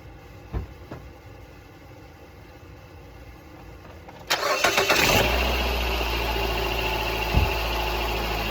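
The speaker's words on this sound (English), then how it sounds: "So we're going to start the car and verify." A 2014 Nissan Versa engine cranks and catches in a garage with a failed alternator, a short starter whirr then a steady mid-pitched idle, loud and close after a few faint clicks.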